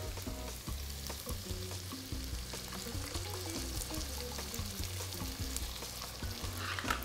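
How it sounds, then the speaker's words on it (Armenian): Canned tomato juice pours into a hot pan of boiled chickpeas, setting off loud, steady sizzling and frying crackle that runs unbroken for several seconds alongside stirring, with no voices. "Ավելացնում ենք պահածոյացված լոլիկի նախ հյութը"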